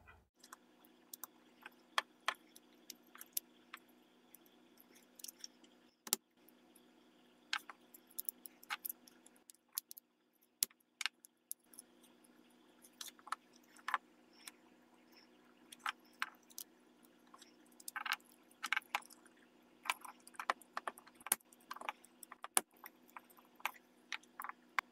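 Metal clips and trimmed, annealed rivets are assembled onto a military rifle handguard, producing scattered sharp clicks, taps and jangling metal contacts at irregular intervals in a quiet workshop.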